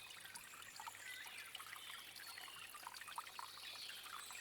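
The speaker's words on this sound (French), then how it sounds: "Profitant des bruits naturels, de l'eau, de la vie qui vous entoure." Water trickles gently at a natural waterside, a soft, steady, quiet burble that continues alone without pause.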